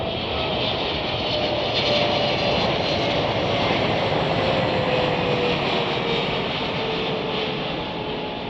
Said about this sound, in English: This is Turkish Airlines Flight 5 from